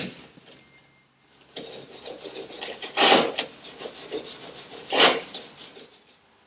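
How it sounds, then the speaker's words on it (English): Brass brush with brake cleaner scrubbing the prop shaft seal housing of an Evinrude 150 outboard, giving rough rasping strokes in bursts, close and fairly loud, with two stronger scrubs standing out. "To clean these, just going to use a little bit of brake cleaner and a brass brush."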